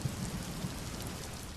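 Heavy, steady rain pours down in Borsad, Gujarat, a dense continuous hiss with no breaks across the whole short stretch.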